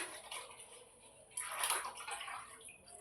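Water is poured out in a home kitchen during cooking, a faint, short splash and gurgle that rises suddenly and then trails off over quiet background noise.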